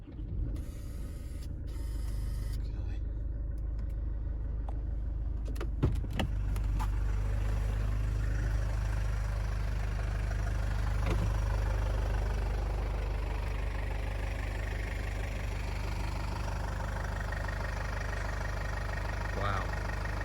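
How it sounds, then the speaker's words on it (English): A Land Rover Freelander 2 fitted with a large 42-inch LED lightbar cranks briefly and catches, then settles into a steady low idle rumble, with a few mechanical clicks early on and a voice talking at times over the engine. "I'm going to start the engine now"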